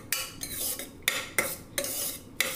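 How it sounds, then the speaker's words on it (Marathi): A spoon clinks and scrapes against a bowl while green chutney is mixed into a wet bhel puri mixture, a handful of sharp metallic taps with brief scraping strokes between, close and alone. "थोडी ग्रीन चटणी, हे मिक्स करून घ्यायचे"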